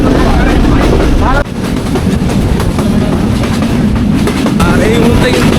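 Inside a local passenger train running between Khulna and Chuadanga in Bangladesh, the carriage gives off a steady, loud rumble and rattle of wheels on rails without a break, with a brief dip in level partway through.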